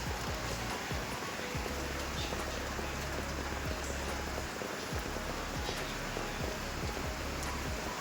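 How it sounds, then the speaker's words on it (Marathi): Dense, even patter of heavy monsoon rain falling continuously outside a house doorway in a village, with a low hum underneath and no pauses. "मुसळधार पाऊस सुरू आहे दारात आमच्या"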